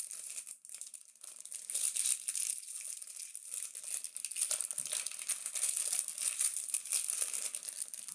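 A foil wrapper of a 2015 Bowman Draft baseball card pack crinkles and crackles close by as it is torn open, a continuous rustling that swells and eases with a brief lull near the start.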